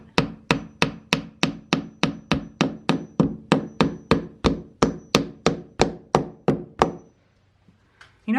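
Hammer blows drive a nail into a wooden basement window frame in a 1925 house, about twenty sharp, evenly spaced strikes at a steady quick rhythm, close and loud, then the hammering stops.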